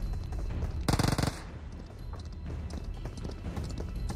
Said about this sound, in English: does he even know we have horses in the game? He's probably wondering what that sound is.